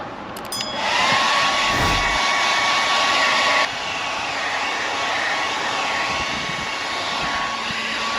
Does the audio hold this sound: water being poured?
no